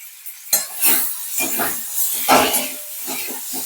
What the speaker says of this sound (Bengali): ভালোভাবে আলুটা মশলাটা খুব সুন্দর করে ভেজে নিচ্ছি